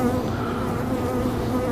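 Dense, continuous buzzing of honeybees around an open beehive, a loud steady drone close by with no pauses or speech.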